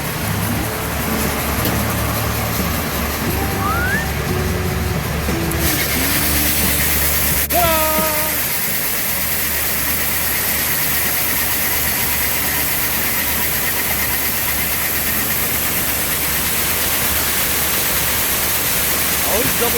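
A grain bin unload auger runs while corn is being loaded, making a loud, steady mechanical drone with engine rumble that continues unbroken throughout.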